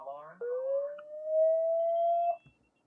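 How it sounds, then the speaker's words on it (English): A single electronic alarm tone from a Vimtag Mini G3 security camera rises and holds steady for about two seconds, then cuts off abruptly. "And then it also has an alarm."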